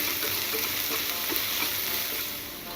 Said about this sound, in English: We are going to add that here. Again, saute for a few minutes.